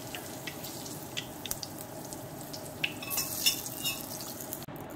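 Garlic cloves dropped into hot oil for salsa macha, giving a soft continuous sizzle and crackle with a few brief clinks and pops, fairly quiet and close, with no talking.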